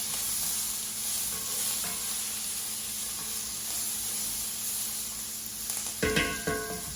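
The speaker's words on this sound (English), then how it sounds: "Let's go in with our garlic." Garlic sizzles in a hot pan for a sausage tomato ragu. The frying hiss is loud and steady throughout, and a short clatter of stirring comes near the end.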